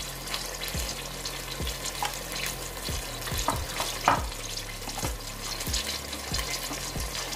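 Mutton and spices sauté in a pan with a continuous sizzle, and a spoon stirs and scrapes against the pan at a regular rhythm, close and fairly loud with no voices.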